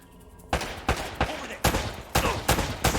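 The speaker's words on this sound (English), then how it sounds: "They're shooting at you too, you know." Enemy gunfire in Uncharted: Drake's Fortune, a burst of several loud shots in an irregular rhythm after a brief quiet start, each crack ringing out close and sharp.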